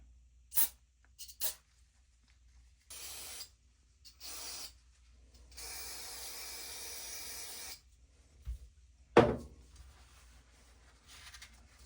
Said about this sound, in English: we'll hit it with carb cleaner too, just for fun